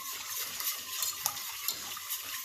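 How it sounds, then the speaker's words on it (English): Steady fast whisking of an orange chicken sauce with fresh orange zest in a pan, a continuous scraping swish with light clinks of the whisk against the sides, close and moderately loud. "Then I've got one zested orange in there. Okay. And we're going to whisk this up."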